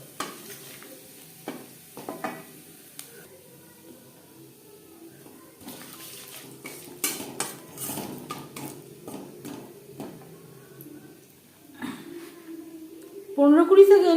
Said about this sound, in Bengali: মাছ ভেজে নেওয়া তেলে দিয়ে দিলাম গোটা জিরে